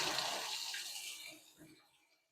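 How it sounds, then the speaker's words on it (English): Warm tap water runs and splashes while a wine bottle is rinsed during home winemaking, a steady hiss that fades out. "you rinse it really well."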